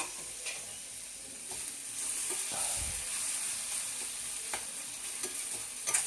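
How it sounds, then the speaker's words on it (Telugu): Onions and tomato frying in a pan for egg curry, a soft continuous sizzle with occasional scraping stirs and light clinks, fairly faint and steady throughout with no voices. "ఈ విధంగా ఉల్లిపాయలు వేగుతున్నాయి కదండి, కొంచెం రెడ్ కలర్, బ్రౌన్ కలర్లోకి వస్తున్నాయి కదా"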